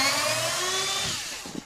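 Cordless drill with a 5mm socket and adapter backing out speaker screws from a 2012 Ram 1500 door panel, a loud whirring spin lasting about a second that winds down, close and alone.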